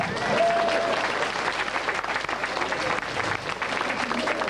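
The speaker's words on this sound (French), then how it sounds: "je crois qu'on peut les applaudir" Applause at an awards ceremony, a continuous crowd of hands clapping evenly for several seconds, with faint voices mixed in beneath the clapping.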